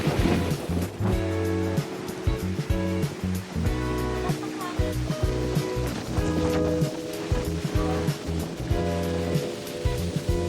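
Loud, continuous ocean surf roars and crashes in strong wind at Patapat Bridge, Pagudpud, with a rushing, windy wash, close by and filling the whole stretch, with a faint voice underneath.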